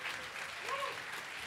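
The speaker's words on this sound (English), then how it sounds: "I want to give an applause to these people that are so amazing." A short burst of steady clapping from a university event audience, with a faint voice audible underneath.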